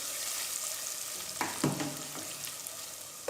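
Spices being stirred into a kadhi pakora mixture in a pan over a steady hiss, with a few short scraping strokes of the spoon standing out near the middle.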